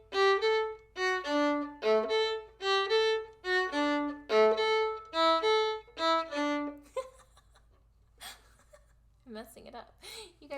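Viola played in a short-long rhythm, a run of close, clear bowed notes alone for about seven seconds, followed by quieter talking and a light laugh.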